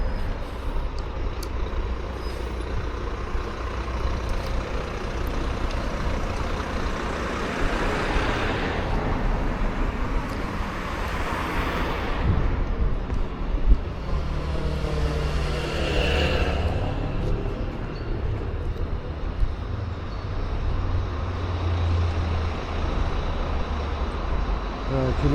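Bus pulling into a bus station in Weymouth on a freezing morning, a loud close engine rumble with a hiss of air brakes and passing traffic swelling and fading over about twenty-five seconds.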